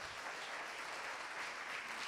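A church congregation applauds after a sermon, with continuous dense clapping at a fairly faint, distant level and no speech over it.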